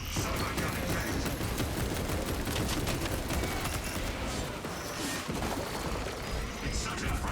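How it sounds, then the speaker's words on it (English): Servo gun firing in a video game: a dense, continuous roar of rapid gunfire and crashing impacts runs throughout, loud and sustained, with game voice lines mixed in. "Servo gun engaged."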